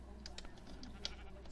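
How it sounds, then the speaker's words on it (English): Sheep bleating in Minecraft, a few short blocky bleats over steady game background noise, alone without speech. "Poor black sheep."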